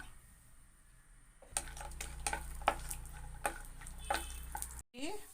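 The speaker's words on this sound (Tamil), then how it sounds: "இப்போ முந்திரியை வறுத்துக்கலாம்." Cashews fry in ghee in a pan for pineapple halwa, giving a soft continuous sizzle with scattered light clicks and stirring taps. A brief clatter comes near the end.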